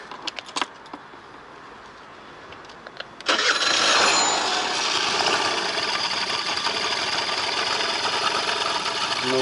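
Scooter engine, its clutch suspected of overheating and grabbing the drum, is silent for about three seconds apart from a few faint clicks, then fires and settles into a steady, loud idle for the rest of the clip.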